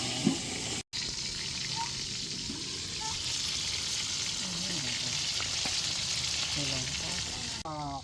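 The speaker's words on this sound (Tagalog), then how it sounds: "Mas okay itong tinatakpan pag pinipirito." Unbreaded chicken fries in hot oil in a pan, giving a dense, continuous close sizzle with occasional pops and light clatter throughout.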